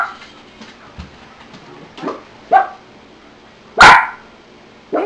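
A dog barks during nail trimming, giving a run of short yips and whimpering barks close by with one loud, sharp bark near the end.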